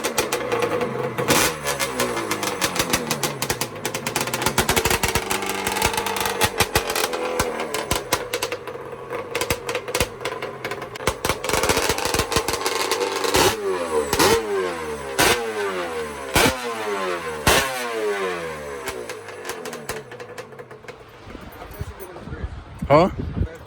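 A Dodge Charger R/T with a Hemi V8 cranks, fires up and is revved repeatedly, a loud, close, rumbling engine whose pitch rises and falls in bursts, with people talking nearby.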